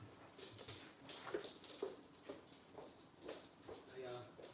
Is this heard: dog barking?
yes